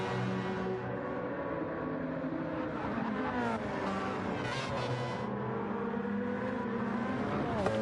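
Gran Turismo 7 race cars, an LM55 and a Porsche, roar continuously with layered engine whine and shifting revs, one car closely trailing the other in a slipstream battle.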